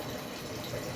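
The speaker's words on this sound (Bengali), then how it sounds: "এই তো পানি পড়তেছে" Water runs from a household tap in a steady, faint hiss that lasts the whole moment without a break.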